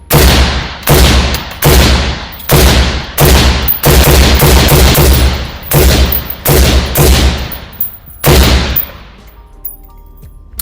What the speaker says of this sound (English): and then I switch my safety lever to fire